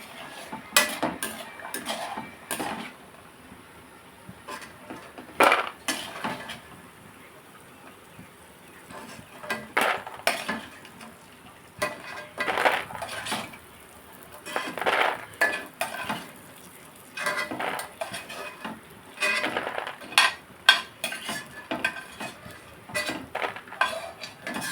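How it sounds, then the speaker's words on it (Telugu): Fried vadiyalu are lifted out of a frying pan with a metal utensil, giving a run of sharp clinks and scrapes against the pan that come in irregular bursts over a faint, quiet background sizzle. "ఇదిగోండి వడియాలు తీసేద్దాం, మనం వేగిపోతున్నాయి కదా"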